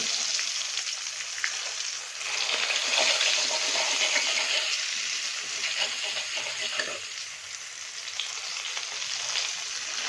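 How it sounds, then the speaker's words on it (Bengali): Fish fat sizzling steadily in a pan, with scraping and stirring from a spatula that chops it into pieces; continuous close frying hiss across the whole stretch with no talk. "মাছের তেলটা ভাজা হয়ে গেছে"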